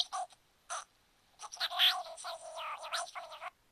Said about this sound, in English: your little parrot repeats anything you say in a high pitch form for the amusement of people